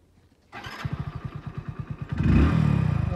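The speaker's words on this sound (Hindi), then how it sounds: "बाइक स्टार्ट करना" A Hero Splendor Plus BS6 self-start motorcycle cranks with a rapid rhythmic chugging from the starter, then the engine catches and settles into a steady, fairly loud idle close by.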